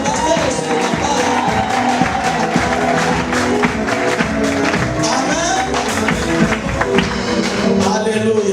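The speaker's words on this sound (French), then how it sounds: "applaudissez pour le pasteur de Kampala" Church congregation at a church dedication applauds for the Kampala pastor, a loud, sustained mass of clapping and cheering that fills the hall steadily from start to finish.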